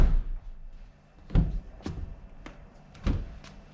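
Rear door of a vehicle shut several times, giving dull thuds spaced about half a second apart, fairly close and alone.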